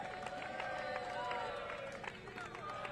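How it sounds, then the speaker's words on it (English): At a women's T20I cricket match between West Indies and England, the crowd and team applaud the player of the series. A steady wash of clapping and cheering carries a scattered rhythm and sits under a commentator's voice. "Charlie, you're getting some good congratulations from the crowd and your team"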